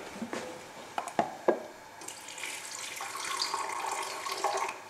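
Water runs steadily from a tap into a blender after a few clinks and knocks, a continuous splashing stream close by.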